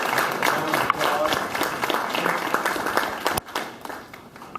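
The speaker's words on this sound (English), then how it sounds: "Let's give all our panelists a round of applause" Audience applause for a panel at a professional gathering, a sustained wash of many hands clapping that thins out toward the end, with a few sharp individual claps standing out.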